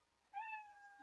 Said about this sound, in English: You hear the sound of a kitty.